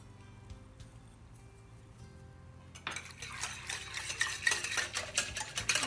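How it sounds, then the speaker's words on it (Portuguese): A spoon stirs yeast into warm milk in a container to dissolve it. The sound starts with faint scraping, then turns louder and busier with clinks and liquid swirling against the sides, close by and without talk. "E vamos mexer até dissolver bem esse fermento no leite."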